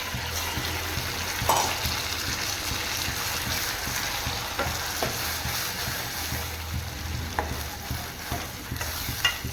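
Cubed elephant foot yam sautéing in masala in a pan gives a steady, dense sizzle with occasional scraping stirs and small pops, close and continuous with no talk.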